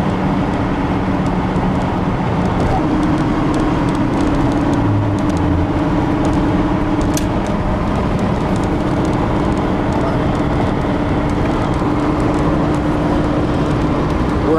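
An electric DeLorean driving uphill in fourth gear, a loud steady broadband road and motor drone with a faint hum, unbroken throughout and heard from inside the car.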